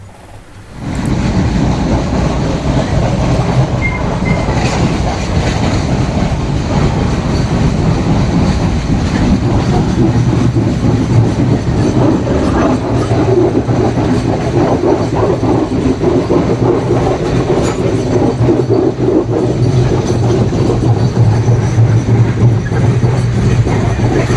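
Steady, loud rumble and rattle of a moving passenger train in Sri Lanka heard from inside a carriage on the way to Galle, continuous wheel clatter and low droning throughout with no talk.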